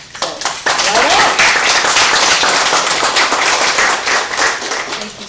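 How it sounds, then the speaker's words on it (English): A crowd at a gubernatorial announcement breaks into loud, dense applause that builds quickly and holds steady for several seconds, with a voice speaking over the start. "So you guys should give yourselves a round of applause"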